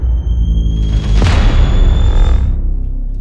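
Big cinematic thud hits from the Ava Instinct sound-design pack, deep booming impacts with a swelling rumble and a sharp transient at the centre, loud and alone, with high tonal whines fading out.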